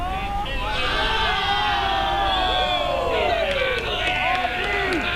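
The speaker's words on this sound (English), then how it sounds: "The Red Army cheering on the speed of the ball boy here" Red Army fans at a 2018 Men's Nationals game between Ontario and Newfoundland and Labrador cheer and shout loudly and continuously, their high rising whoops spread across the crowd.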